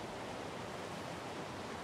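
A waterfall at a base in a video game, a constant broadband rush of falling water, steady and faint, with no voices.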